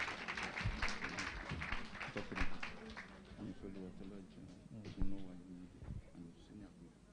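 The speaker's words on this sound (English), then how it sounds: "Please put your hands together." Audience applause at the Ethical Living Project grand finale, a steady wash of clapping running through the clip beneath a speaker's amplified voice.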